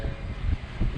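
Strong gusty wind buffets a 2019 Ford F-250 Limited three-quarter-ton pickup from outside, a close, rumbling low roar that swells toward the end of the second.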